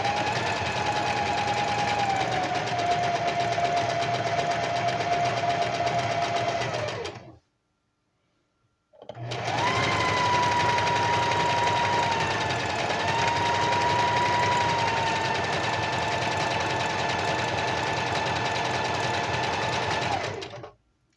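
A home sewing machine running in two long, steady bursts of loud, close mechanical whirring and rapid stitching hum, separated by a brief silent pause, with no talking over it.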